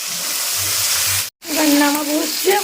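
Masoor lentils frying in a pan give a steady close sizzle with a scraping stir, broken by a brief silent gap midway, and a voice speaks over the second half.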